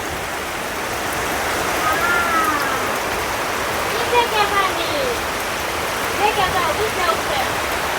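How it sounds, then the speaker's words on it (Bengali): Steady, heavy rain hisses without letup, with a few faint bird chirps breaking through the downpour now and then. "দেখেন কত বৃষ্টি পড়তেছে"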